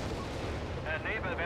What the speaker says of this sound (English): Grant takes a Nebelwerfer to the face